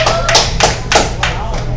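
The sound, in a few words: audience clapping for the seniors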